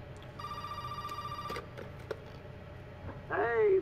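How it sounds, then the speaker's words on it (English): A telephone rings in the horror video game Resident Evil 7, a steady electronic bell tone that stops, followed by a few clicks and a rising tonal game sound at the end. "I'm gonna answer this phone for this dude right quick."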